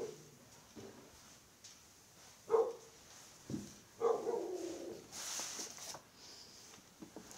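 A dog barks outside in several separate short barks, fairly faint and distant, with quiet gaps between them.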